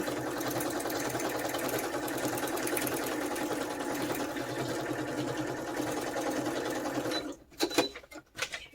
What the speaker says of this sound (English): Problems with sewing machine.